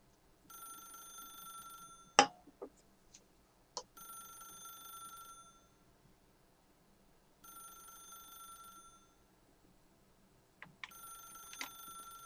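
A telephone rings in The Stanley Parable video game. Clear electronic ring bursts repeat at long intervals over a quiet background, broken by a few sharp clicks and knocks.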